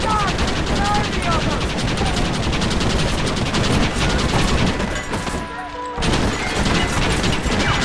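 Rapid, dense gunfire from a shootout in the video game Red Dead Redemption: loud overlapping shots and bursts that continue almost without a break, with a short lull near the end before the firing resumes.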